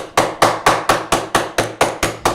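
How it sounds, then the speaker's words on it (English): A hammer strikes a faceplate panel in steady, rapid blows, about ten sharp loud impacts evenly spaced a quarter second apart, close and with no voices. "Here is the faceplate. I have to hammer it too."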